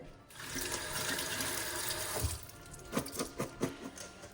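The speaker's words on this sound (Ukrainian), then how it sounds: "Пів баночки ось такої червоної квасолі, але мені треба її спочатку промити" Canned red kidney beans rinsed under running tap water in a kitchen sink, a steady close splashing rush throughout with sloshing pulses near the end as the beans are shaken, no talking.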